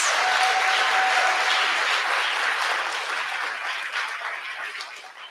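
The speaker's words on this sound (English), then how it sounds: "one more round of applause for all of the presenters" A pitch-night crowd at Catapult Launch gives the presenters one more round of applause: full, dense clapping from the start that gradually thins and softens toward the end.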